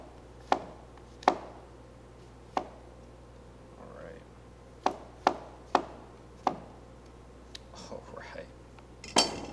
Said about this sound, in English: we're just gonna give these a nice chop